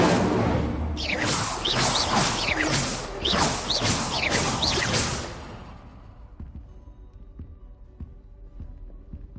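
Several quick whooshing bursts of spellcasting in Hogwarts Legacy, including the Incendio fire spell, sweep past in a rapid series before they stop abruptly and leave faint scattered thuds.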